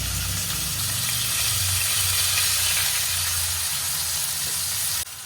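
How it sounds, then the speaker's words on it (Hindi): Finely chopped onions sizzle in hot oil with cumin and hing for a sweet corn sabzi, producing a constant, even frying hiss under quiet background music that cuts off abruptly near the end. "और इसी बीच में अपन डालेंगे इसमें जो इतने बारीक कटे हुए प्याज है ना, वही।"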